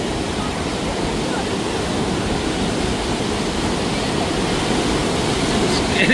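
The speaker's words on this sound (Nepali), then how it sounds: "हामी यहाँ हुक्का फल्समा आएको छौँ" Huka Falls waterfall near Rotorua roars as a steady, dense rush of water, loud and continuous throughout, with voices faintly audible beneath it.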